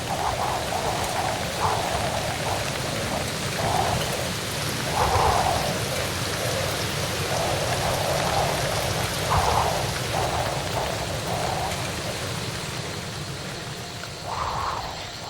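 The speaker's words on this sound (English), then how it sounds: "The long drought of February to May ended with violent, cleansing storms, drenching everything." Violent thunderstorm in the jungle at the end of a long drought: heavy rain pours steadily, with repeated rumbles of thunder rolling through the downpour.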